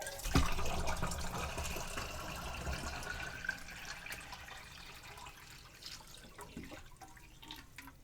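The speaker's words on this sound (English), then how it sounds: "I'm going to put just a little bit more water in" Water is poured into a Nesco smart canner during water bath canning, a continuous splashing fill at a fairly quiet level that gradually softens toward the end.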